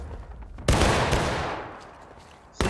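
A rifle volley crashes out from a line of infantry at a Civil War reenactment, one sharp broadband blast that rolls and decays for nearly two seconds before a second report cuts in at the end.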